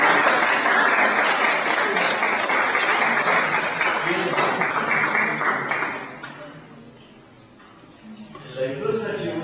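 An audience applauds at a talk, with dense, loud clapping for about six seconds that fades away, followed by a voice starting to speak.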